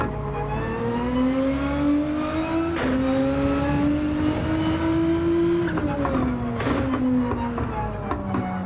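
Race car engine in Gran Turismo 7: a loud, near, steady engine whine that climbs in pitch through a gear, dips with an upshift, then rises again, with brief tire noise.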